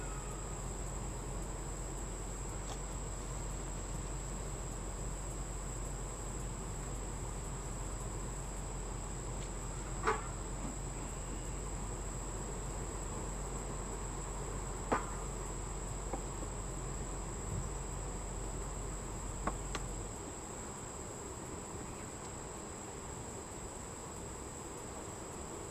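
Honeybees buzz through a summer hive inspection in a steady, droning hum, with a high, continuous insect-like whine on top and a few faint clicks. The low hum drops away near the end, and no one speaks.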